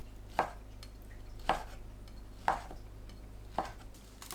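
A knife cuts fish cake into bite-size pieces on a board, making four evenly spaced thuds about a second apart, close but quiet, with no voices.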